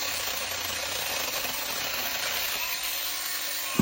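Cordless battery-powered mini saw running steadily with a continuous high-pitched motor whine, moderately loud and with no voices, ending in a short clatter.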